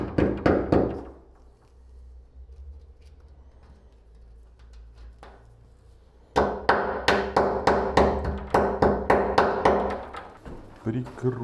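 Wall plugs are hammered into drilled holes while fitting pipework for a NORDIC TEC underfloor heating manifold, with sharp close hammer blows in a quick run, a quieter gap with faint tapping, then a longer series of strikes.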